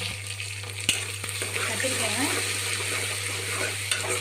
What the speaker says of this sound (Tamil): நல்லா எண்ணெயில் ஒரு ஃப்ரை மாதிரி பண்ணி விட்டுருக்கோம்